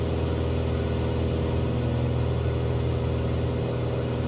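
Piper Arrow III engine with airflow in MSFS 2020 flight simulation, a steady loud droning hum with layered low tones and broad rushing air, constant and unbroken.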